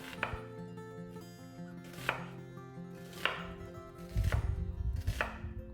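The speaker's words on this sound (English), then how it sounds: "So we're going to cut the onion in half." A knife chops an onion on a cutting board while preparing tabouli, with about five sharp, close, separate strikes spaced irregularly and a busier scrape near the end.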